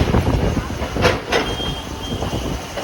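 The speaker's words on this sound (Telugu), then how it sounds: "ఇది వన్ టౌన్ నుంచి మనం బ్రిడ్జ్ మీద నుంచి అయితే వెళ్తున్నాం" A passenger train running from Vijayawada toward Guntur rumbles steadily across a large railway bridge, with a continuous rolling roar and a couple of brief sharper rattles, heard close from on board.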